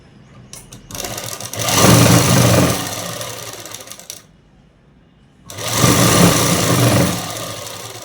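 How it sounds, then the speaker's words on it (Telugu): A sewing machine stitches the hem of a dress in two long, steady mechanical runs with a brief pause between them, loud and close. "కాళ్ళ వైపు అనేది కిందిన ఇలా మర్చుకొని అనేది కుట్టు వేసేసుకోవాలండి"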